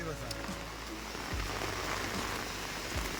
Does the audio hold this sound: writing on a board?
no